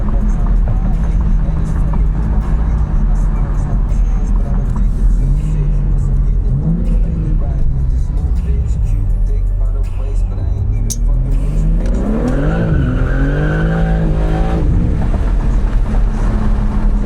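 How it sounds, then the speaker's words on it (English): A Lamborghini Aventador SVJ engine drones steadily while cruising, then revs hard and rises sharply in pitch as it accelerates. The tire spin and squeal is not clearly separable from the engine roar, and voices talk under it. "This shit just spin the tires up quick."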